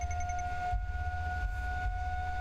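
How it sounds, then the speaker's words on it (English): A siren drones steadily outside a home, a sustained two-tone wail heard from a distance under a low background rumble. "I can't stand the sound of that siren."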